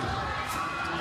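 A basketball student section at a Gonzaga at Saint Mary's game roars as a steady, loud crowd cheer with shouts and whoops, a brief continuous wall of noise.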